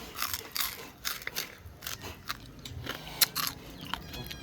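Crunchy, still-warm chicharon pork rinds being bitten and chewed up close, giving a steady run of crisp crackling crunches with a few louder snaps.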